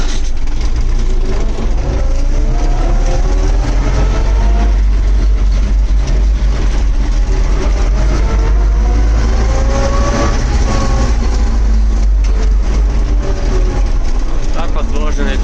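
A YuMZ tractor engine roars loud and steady as it accelerates up through the gears, its heavy low drone running continuously, with a voice talking over it in places.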